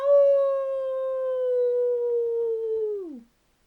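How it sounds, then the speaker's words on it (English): A dog lets out one long, steady howl that holds its pitch before sliding down and trailing off, loud and close. "It was Mutt, and man, could he howl."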